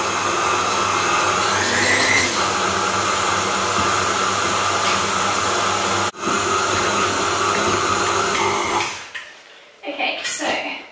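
An electric mixer working hot cross bun dough in a home kitchen, a loud continuous motor whir that cuts out briefly partway through and then stops, followed by quieter clatter.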